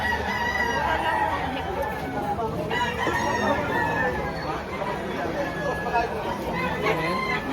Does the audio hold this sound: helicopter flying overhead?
no